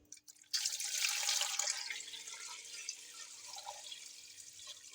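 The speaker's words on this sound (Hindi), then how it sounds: "तो सबसे पहले तो मैं इसमें पानी डालने लगी हूँ।" Water poured into a cooking pot of beef trotters for paya, a steady close splashing gush that starts abruptly and gradually softens.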